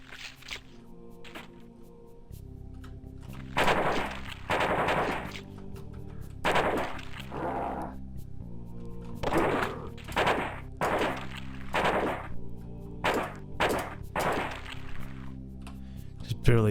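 Gunfire in the video game Pathways Into Darkness, with repeated bursts of sharp shots in short volleys over game music, while a person talks intermittently in between.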